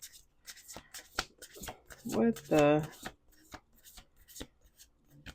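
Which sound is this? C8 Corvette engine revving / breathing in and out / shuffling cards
shuffling cards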